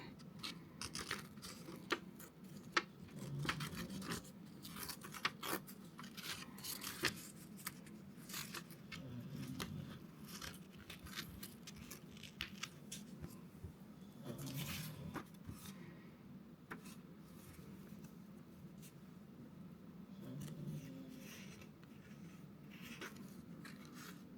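Paper being torn by hand while making journal pages: a quiet, steady run of rustling and ripping crackles, with no talking, across about twenty-four seconds.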